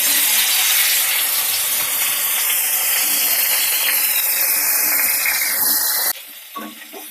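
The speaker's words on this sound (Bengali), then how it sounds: "এই তেলে আমি এবার ডাঁটাগুলো ভেজে নেব।" Drumstick (sojne) stems fry in hot oil, giving a loud, steady sizzling hiss close up that continues without a break and then drops off suddenly near the end.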